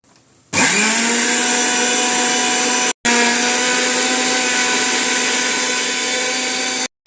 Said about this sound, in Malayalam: അരി മിക്സിയിൽ പൊടിച്ചിടണം അപ്പോൾ അരി പൊടിച്ചിട്ട് വരാം